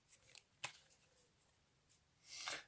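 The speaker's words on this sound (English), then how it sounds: "I'll give the packet yet another shuffle." A packet of playing cards being shuffled and handled on a card mat, with a few soft riffling bursts and a longer, louder shuffle near the end, close and quiet, no voices.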